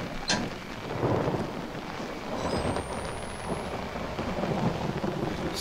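Thunder from lightning in the horror video game Outlast, a deep rolling rumble with a sharp crack near the start, swelling and fading repeatedly over steady rain-like noise.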